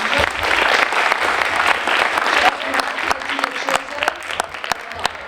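An audience at an event on synthetic nylon fibres gives loud, sustained applause that gradually thins into scattered individual claps toward the end.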